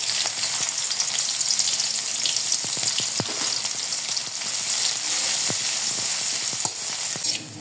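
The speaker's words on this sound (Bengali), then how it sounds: "কই মাছ ভাজা তেলের ভিতরে দিয়ে দেব পেঁয়াজ কুচি" Chopped onion hits the hot oil left from frying koi fish, making a loud, continuous close sizzle with scattered spattering crackles and occasional stirring sounds, no voices.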